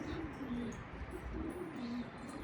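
Homing pigeons cooing close by, soft low repeated coos in a loose rhythm, quiet against a faint background.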